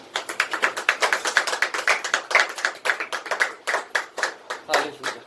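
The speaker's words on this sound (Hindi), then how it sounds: "हम प्रभु की महिमा करेंगे जोरदार ताली बजा के" Congregation in a church service clapping loudly and steadily, a dense run of rapid hand claps lasting several seconds, close and strong with a slightly uneven rhythm.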